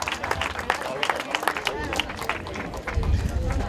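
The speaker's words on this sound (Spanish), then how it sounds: "Fuerte aplauso para él." A crowd at an outdoor race awards ceremony applauds a third-place finisher, steady clapping under an announcer's amplified voice and background chatter.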